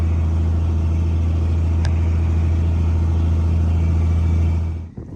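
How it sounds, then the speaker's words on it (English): A John Deere spreader truck working a farm field at the start of planting season gives off a steady, loud low engine drone that runs unbroken and then cuts off abruptly near the end. "Look at that beautiful John Deere spreader truck."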